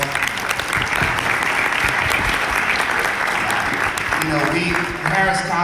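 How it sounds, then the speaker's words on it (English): Sustained audience applause at a business forum, loud and steady throughout, with the clapping thinning slightly near the end as a voice begins to come through. "Give them another round of applause."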